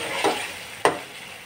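Chickpeas fry in a pan with a constant soft sizzle, broken by two quick scraping swipes of a spoon stirring them.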